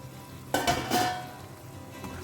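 Squid and capsicum cubes stirred in a hot pan, a couple of brief scraping, sizzling strokes early on, then a soft steady frying hiss with faint background hum.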